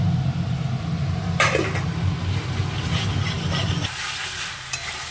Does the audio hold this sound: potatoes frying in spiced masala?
yes